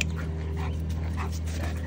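Small puppies whimper softly over a steady low hum, with thin high whines coming in brief bursts and no talk.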